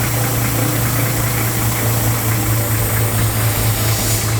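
A Toyota Corolla engine running as the car slowly reverses, a loud, steady low hum with a constant rumbling drone and no break over several seconds.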